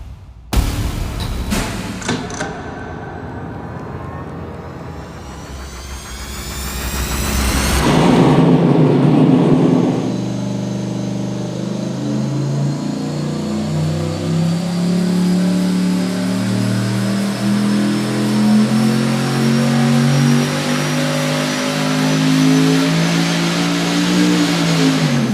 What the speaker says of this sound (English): fire it up. Let's put some heat in the manifolds and let's get going.